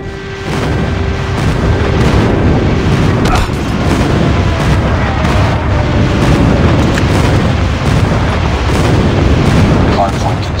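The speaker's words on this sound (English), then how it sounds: "Friendly airstrike incoming." Airstrike explosions boom through a Call of Duty Mobile Hardpoint match on the Crossfire map, a loud continuous rumbling barrage of blasts with no pauses, with game voices heard over it.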